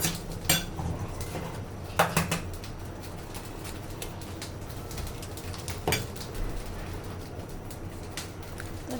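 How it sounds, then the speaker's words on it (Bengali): Onion and chili are mashed with salt in a bowl, giving soft scraping and a few sharp clinks against the bowl, fairly quiet and close, with faint birds cooing in the background. "লবণ দিয়ে আগে পেঁয়াজ মরিচ এগুলো একটু ম্যাশ করে নিতে হয়"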